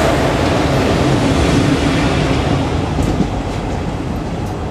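Garib Rath Express passenger train running on the line near Jabalpur, a loud, continuous broadband rumble and rush of wheels and wind heard up close, with faint rhythmic clatter and no talk.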